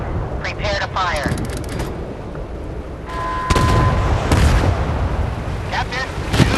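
Naval gunfire in the warship game Force of Warships: heavy booming shots and blasts over a constant rumbling battle bed, with a sharp burst near the middle, game voice callouts and electronic tones mixed in.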